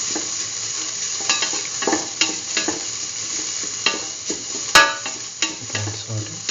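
Shrimp sautéing in a pan, a steady soft sizzle with intermittent scrapes and clacks of a spatula stirring, including one sharp knock midway, close and moderately loud.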